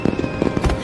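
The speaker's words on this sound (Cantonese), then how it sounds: "煙花咁靚，唔睇埋再走。" Fireworks bursting over Hong Kong at night, a quick cluster of loud, close booms and crackles tumbling over one another in under a second.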